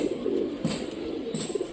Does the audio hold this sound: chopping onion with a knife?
no